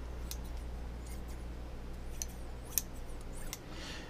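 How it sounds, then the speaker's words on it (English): Japanese Mimatsu shears snip several times against a steady low hum, each cut a crisp, short, close metallic click, with one sharper snap standing out among the scattered cuts. "I trimmed them, by the way, with my birthday gift. Which is a Japanese set of Mimatsu Japanese shears. Listen to this."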